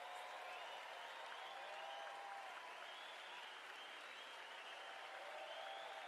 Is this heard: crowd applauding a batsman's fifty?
yes